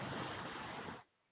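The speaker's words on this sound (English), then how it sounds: "I can hear the waves." Ocean waves washing in on a sandy shore lined with rocks and boats, a broad steady rush that carries for about a second before cutting off abruptly to near quiet.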